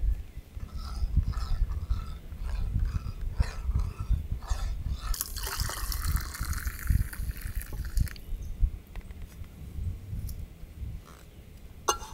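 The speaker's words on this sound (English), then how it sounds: "Pour a little bit of rum cream, yeah." Rum cream is poured while cooking outdoors, a brief soft liquid splash and trickle among faint outdoor clatter and light handling noises.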